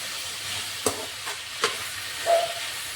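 Spinach and coriander leaves are stirred through hot oil in a pan, a steady sizzle broken by a few sharp scraping strokes of the spatula against the metal.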